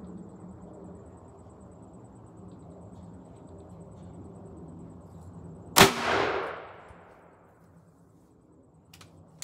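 A .44 Magnum fires a single 265-grain solid copper bullet into a gel block outdoors. The sharp, loud crack is followed by a short, rolling echo, with quiet surroundings before and after.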